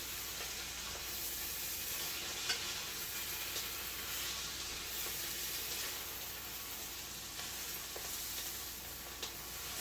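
Kale is stirred in a hot pan with a continuous hissing sizzle and soft scraping, occasional faint taps rising over a low background rumble.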